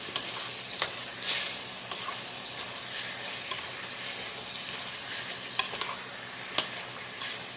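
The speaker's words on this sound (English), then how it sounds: "I'm using the grease from the hamburger fat to saute the onions and celery with" Onions and celery sauté in hamburger grease for a keto hamburger soup: a steady close sizzle, broken by sharp scraping clicks of a spoon stirring the pan.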